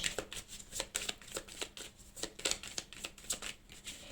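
A deck of cards is shuffled and cut, giving rapid rhythmic riffling bursts that repeat about every half second, close and fairly quiet, with no talking.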